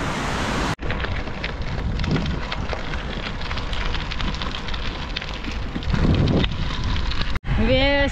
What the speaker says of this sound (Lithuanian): Vėjas ir šiandien yra.